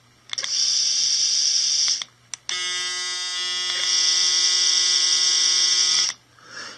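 Braun Series 7 electric shaver running, a steady high-pitched motorized buzz that starts, cuts out briefly around two seconds, then resumes steadily before stopping near the end.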